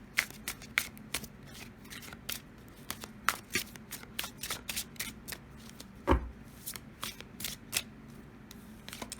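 Tarot cards shuffled by hand in quick, irregular bursts of crisp riffling and flicking, fairly close and quiet, with no talking.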